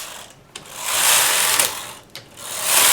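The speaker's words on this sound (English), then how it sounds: "I'm knitting 3 rows of ribbing." A knitting machine carriage is pushed back and forth while knitting rows of ribbing, making a loud mechanical whirring and clattering sweep on each pass, with brief clicks and pauses where the direction reverses.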